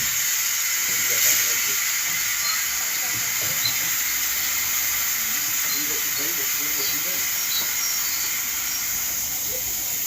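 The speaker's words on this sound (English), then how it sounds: "Steam train's going to connect." Steady broadband hiss of a steam locomotive venting at Chadwell Halt, constant and fairly loud, with faint low rumbles and distant voices underneath.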